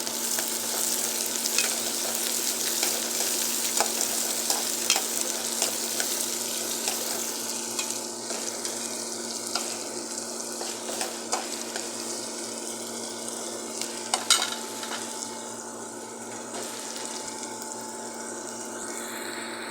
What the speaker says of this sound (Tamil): அதோடு சேர்த்து பூண்டை போட்டாச்சு பூண்டை போட்டாச்சு இப்போ கொஞ்சம் கிண்டி விட்டுக்கலாம்